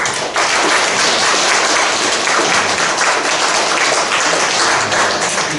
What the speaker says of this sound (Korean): 우리 분들에게 박수 한번 주십시오